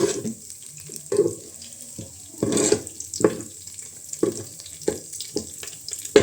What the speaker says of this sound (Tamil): இப்போ வந்து இந்த சோம்பு பட்டை போட்டுட்டு அதை நல்லா வணக்கி விட்டுக்கலாம்